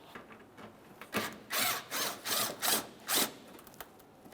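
A power tool whirs in five short bursts, loosening a 10mm bolt that holds the front bumper cover to the fender on a 2003-2009 Toyota Corolla, close and clear with brief pauses between pulls.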